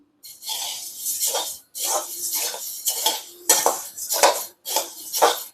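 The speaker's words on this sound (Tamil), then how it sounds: "இப்போ அடுத்தது ஒரு கடாய் வறுத்துக்கலாம்" Spices being roasted in a kadai give off repeated bursts of scraping and clinking as a utensil stirs them, coming in short, regular strokes with brief pauses between them, close and fairly loud.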